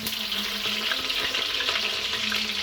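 Mustard seeds, onion and chili frying in hot oil give a dense, steady sizzle with scattered crackles and pops, close and loud throughout with no talking.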